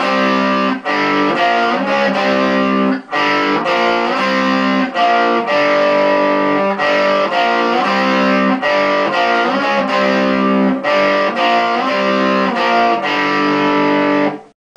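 A distorted electric guitar plays a riff, loud and steady with repeated chord stabs and brief pauses, picked with a plectrum at a slightly faster tempo.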